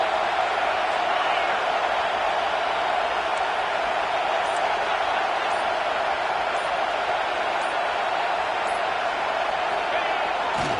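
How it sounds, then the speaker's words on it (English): A roaring football stadium crowd at a Michigan game during a third-down play, a steady dense wall of cheering and noise that holds level from start to finish with no gaps. "Third down and the crowd really getting into it."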